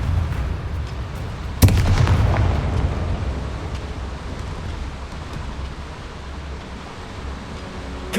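Bombarda blasting spell explosions in a Hogwarts video game: one sharp loud blast early on, followed by a dense rumbling, crackling roar that holds steady and fades slightly, with another burst at the very end.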